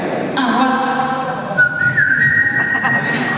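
A person in a stand-up comedy audience whistles a rising, wavering wolf-whistle, clear and close, with the crowd murmuring faintly behind.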